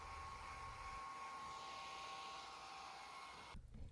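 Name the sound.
hairdryer blowing on a fishing lure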